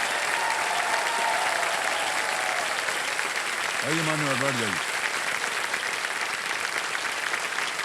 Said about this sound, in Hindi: आइए बहुत बड़ा तालियां बज जाए इनके लिए।